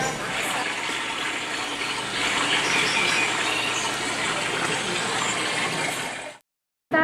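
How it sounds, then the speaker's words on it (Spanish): A forest soundscape of a waterfall and river: a steady, dense rush of falling and flowing water that fills the whole stretch at an even level, then cuts off abruptly near the end. "Es un bosque. ¿Es un bosque? Con la cascada y el río."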